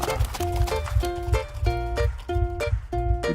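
A horse's hooves clip-clop in a steady galloping rhythm alongside bright, repeated musical chimes and a low thumping beat, with the hoofbeats and tones recurring roughly every half second.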